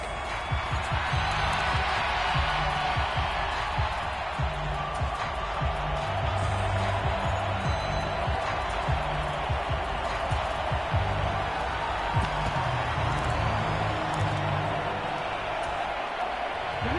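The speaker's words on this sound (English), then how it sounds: "the crowd getting into it as we come up on a big 3rd down" Stadium crowd noise in a PS4 American football video game, a steady roar of cheering and whooping spectators building before a big third down, continuous and broad.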